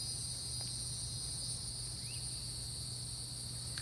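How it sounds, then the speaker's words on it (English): Steady, continuous chirping of crickets fills an outdoor nature setting, a dense insect drone with a faint low hum underneath and no voices. "those crickets, they be buzzing."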